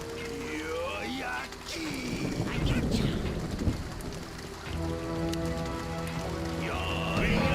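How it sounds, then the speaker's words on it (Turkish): Rain falling in the strategy game Empire Earth, a steady patter of raindrops with a low rumble of thunder, mixed with game sound effects and music. "Yağmur yağıyor lan."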